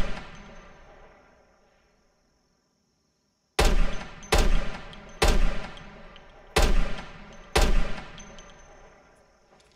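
Five sharp, loud gunshots from a firearm in Project Zomboid, spaced roughly a second apart with ringing decays, following a stretch of near silence and a faint tone.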